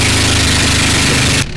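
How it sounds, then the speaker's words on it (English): A motorboat motor drones loudly and steadily up close, a rough continuous engine rumble that cuts off sharply near the end. "The motor on the motorboat was so loud"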